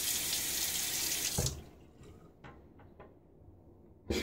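A bathroom sink tap runs in a steady hiss while someone washes up after a shave, then shuts off, leaving a few light drips and clinks in quiet.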